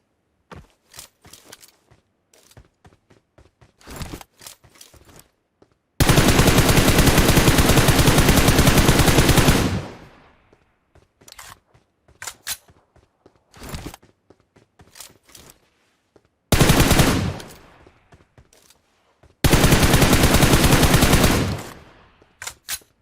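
Bursts of automatic gunfire from a .45 ACP gun in PUBG Mobile, two long loud sustained sprays and a shorter one, separated by scattered single shots and clicks.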